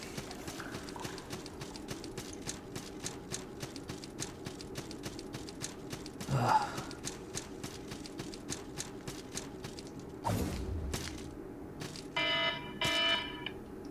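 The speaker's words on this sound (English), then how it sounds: "Guess my alarm was still on." Alarm in the game Salt & Sanctuary, heard as a steady rapid clicking buzz with a few louder bursts and electronic tones, and no talk.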